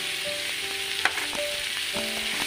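Onions seasoned with salt and turmeric sauté in a pan with a dense, even sizzle and hiss, plus a few faint clinks and a soft utensil knock in the middle.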